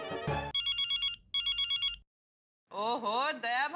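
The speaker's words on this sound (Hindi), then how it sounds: "लगता है जेठा भाई का फोन है" A telephone rings in two electronic bursts of repeated trilling tones, loud and close, followed by a pause and then someone speaking.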